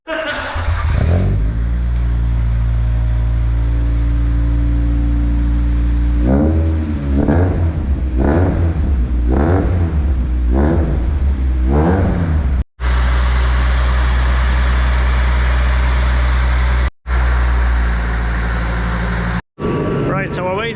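A Toyota AE86 fitted with an induction kit starts and idles in a workshop shed, then gives a series of about five sharp revs in quick succession, loud and close, before settling into a steady, continuous engine drone.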